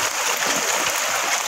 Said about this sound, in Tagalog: nagmistulan ng maliit na batis